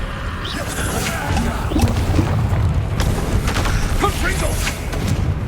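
Confringo spell blasts in Hogwarts Legacy burst in a continuous, dense stream of booming crashes and whooshes amid a hectic magical duel, loud and layered, with shouted spell incantations in between.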